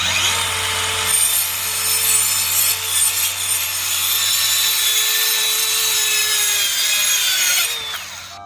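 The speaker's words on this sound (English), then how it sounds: "this is a 1/2 inch piece of plywood. All right, now I can kind of use the handle here. Be doing a quick cut here." A DeWalt 20V Atomic 4 1/2-inch cordless circular saw rips through a sheet of 1/2-inch plywood, a loud, steady high whine with rasping blade bite lasting most of the clip before spinning down near the end, with no talking.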